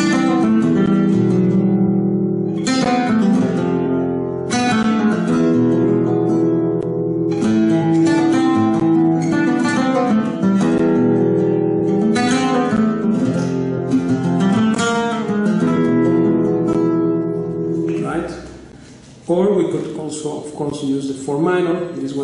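Flamenco guitar playing an Andalusian cadence with a minor fifth chord substituted, loud and close, strummed chords and rasgueado flourishes ringing in sequence, ending with a brief pause and a final struck chord.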